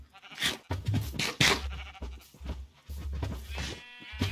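Cows bred in the video game Minecraft give a series of short, fairly quiet moos and bleating calls, separated by brief pauses.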